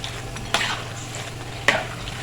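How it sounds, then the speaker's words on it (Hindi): Besan pakoras deep-frying in hot oil give a steady, moderate sizzle, and a spoon stirring them lands two sharp scrapes against the pan. "मैं इस तरह मुसलसल चम्मच हिलाती रहूँगी ताकि सारी पकौड़ियों पे एक जैसा कलर आ जाए।"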